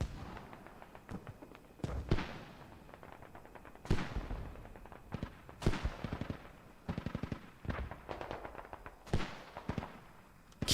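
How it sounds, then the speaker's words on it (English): Mortars firing during a video game battle, with repeated sharp booming blasts at irregular intervals over some ten seconds, some in quick bursts and others spaced apart, against a quiet background with no talking. "Mortars going off."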